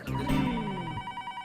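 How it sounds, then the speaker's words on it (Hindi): An old landline telephone rings in a family home in the Taarak Mehta Ka Ooltah Chashmah sitcom, a loud electronic trill that opens strongly and keeps sounding steadily with nobody speaking. "फोन आया।"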